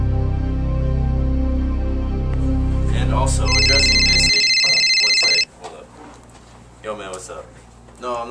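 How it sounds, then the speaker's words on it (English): Telephone ringing in a comedy sketch, a bright repeating electronic ringtone that cuts in loudly near the middle for about two seconds, following low music, with scattered speech afterward. "Tana, you have an important phone call waiting"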